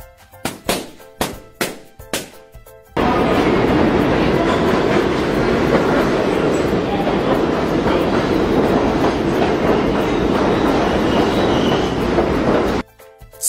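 After a few quick thumps, a subway train rumbles past loudly with a steady rushing roar and rhythmic clatter that lasts about ten seconds, then stops abruptly.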